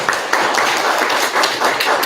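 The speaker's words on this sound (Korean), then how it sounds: "큰 우리 환영의 박수 한번 쳐주시고요" A church congregation claps in welcome for visiting guests at a Sunday service, a dense, even patter of many hands at close range, brief and steady.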